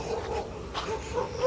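A dog whimpers and yips in short, thin bursts, fairly close, over a steady outdoor background hiss near a swollen river at evening.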